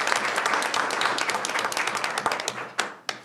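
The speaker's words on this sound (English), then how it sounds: "So if we can give them a round of applause." A board meeting audience applauds students, producing a dense, steady patter of many hands clapping that continues for a few seconds at moderate level, then thins out toward the end.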